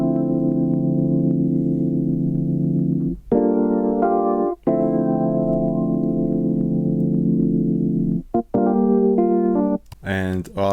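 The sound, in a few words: Rhodes electric piano chords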